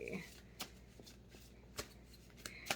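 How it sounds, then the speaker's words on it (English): Tarot cards are shuffled in short, crisp riffles and taps, scattered irregularly and heard up close, with someone speaking softly in the background. "I'm not super happy with my shuffle."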